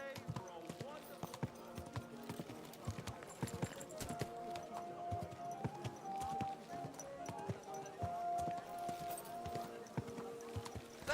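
Horse hooves clip-clopping in the video game Kingdom Come Deliverance 2, a steady rhythmic trot of crisp hoof strikes throughout, with a voice talking over the top.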